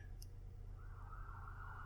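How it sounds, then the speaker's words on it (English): Police car sirens wail close by, a faint steady tone sustained alone through the short stretch with a low background rumble. "Sirens? Right next to the burrow, I think?"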